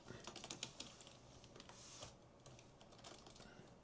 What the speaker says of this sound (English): And you can type in iPhone,